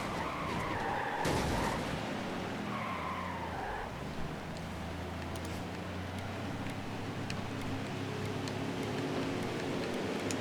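Tires skid and squeal in a NASCAR Heat 5 race, a loud screech in the first four seconds giving way to steady engine and crowd roar from the racing game, with no talk.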